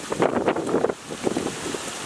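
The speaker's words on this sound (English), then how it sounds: "It's very windy." Gusty wind buffets the microphone with a low rumbling roar that rises and falls in short bursts.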